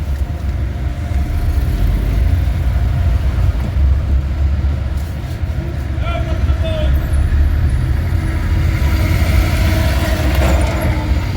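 A manual car pulls away in first gear, its engine giving a steady, fairly loud low rumble with road noise that holds throughout.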